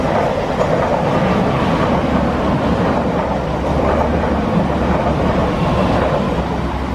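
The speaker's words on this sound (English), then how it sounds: "And it just sounds like there's a train coming too." A double-unit Class 185 diesel train rumbles past close by in Saddleworth, a loud steady roar with a rhythmic rattle of wheels over track joints throughout.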